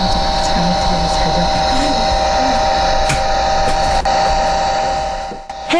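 A hair dryer runs loud and steady with a constant whirring hum, its pitch and level holding almost unchanged before dipping briefly near the end.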